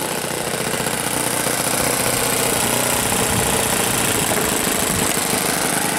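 OS FS 40 four-stroke model aircraft engine idling on a De Havilland 82A Tiger Moth before a maiden flight, a steady, loud buzzing drone held close and continuous throughout, with no talk over it.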